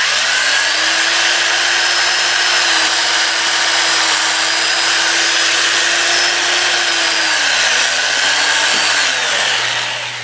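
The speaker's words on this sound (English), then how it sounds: "Then I'll take the paper towel, put it up against this sanding pad," A power sanding pad whirs steadily as it buffs abrasive paste on a turned live-edge magnolia wood piece, a loud continuous motor drone with a slight wavering pitch throughout.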